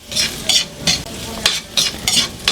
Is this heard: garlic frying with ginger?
yes